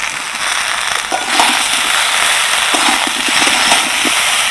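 Ridge gourd with turmeric, cumin and ginger paste sizzles in a hot pan, a loud continuous frying hiss with bursts of sputtering crackle, close up and without talk.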